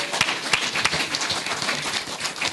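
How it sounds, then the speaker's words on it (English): A youth panel audience gives a round of applause, dense overlapping claps filling the room at steady loudness throughout. "Give me a round of applause."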